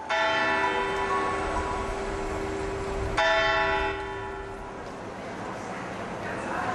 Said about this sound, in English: the sound of the bell that marks a new hour